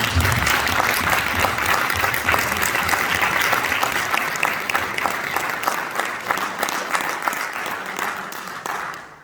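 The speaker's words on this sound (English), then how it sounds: "I want you to give a big round of applause for that." Audience applause at a Torah lecture, a full, steady roar of many hands clapping close by for about nine seconds, slowly fading toward the end with no talking over it.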